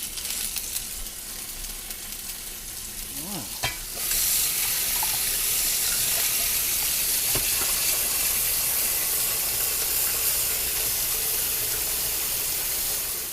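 Lamb chops sizzle in hot oil in a frying pan, a sudden loud burst of steady frying hiss that begins a few seconds in and holds strong, with a light clatter just before it.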